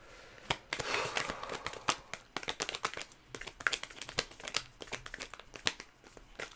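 Tarot cards are shuffled in rapid bursts of papery riffling and flicking, close up and steady, with no talking.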